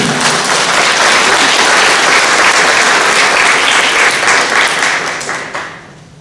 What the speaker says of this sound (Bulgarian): моля ви с овации да го приветствате